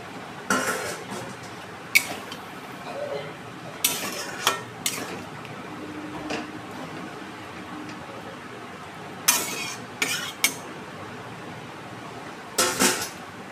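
Spiced pointed gourd cooking in a pan while a little water is added, with scattered clinks of a metal spoon against the pan and soft stirring scrapes over a faint low sizzle.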